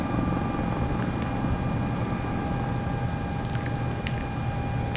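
Sikorsky S-76 helicopter in a flight simulator game, a steady droning rotor and turbine hum held at even loudness throughout, with faint high tonal whines and brief clicks near the end.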